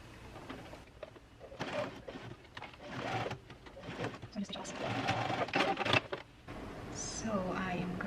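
A sewing machine stitches along the elastic edge of a skirt in short, uneven bursts of whirring and clicking, close by, with pauses between the runs and a voice talking over parts of it.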